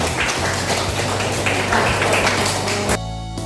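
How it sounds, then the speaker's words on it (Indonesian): A classroom of students applauds a presenting group, steady dense clapping at moderate loudness for about three seconds before cutting off abruptly to near quiet. "Oke, tepuk tangan untuk kelompok"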